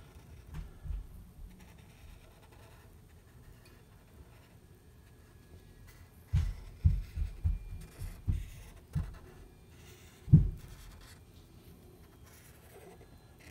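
A pencil draws lines on paper, quiet scratchy strokes arriving in short bursts with gaps between them, close and faint in a quiet room.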